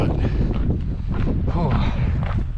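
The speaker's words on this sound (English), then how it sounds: "Some cold fucking wind, I'll tell you what." Cold wind gusts on a hiking trail along the Pacific Crest Trail, buffeting the microphone in loud, rumbling bursts while footsteps and a voice come through underneath.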